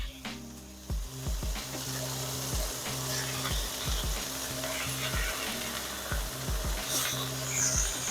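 A burger patty sizzles steadily in a hot pan after being flipped, a loud continuous crackle with a low rhythmic thumping pattern running underneath throughout.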